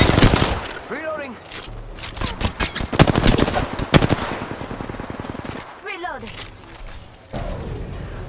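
Gunfire rattles through a battle royale video game: dense, rapid bursts of shots up close, some spaced single cracks, and brief vocal sounds mixed in among the volleys.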